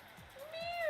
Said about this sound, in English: He went, meow.